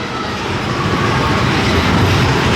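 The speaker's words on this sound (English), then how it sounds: "they have got a ghost train right next door" Ghost train ride at Deno's Wonder Wheel Amusement Park, Coney Island, rumbling and clattering on its rails beside a steel structure; a loud, steady, dense rattle with no talk.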